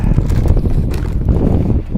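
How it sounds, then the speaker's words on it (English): Strong wind buffets the microphone on a cold winter beach in Toronto, a loud, continuous low roar that rumbles without pause. "it's getting more and more windy right now"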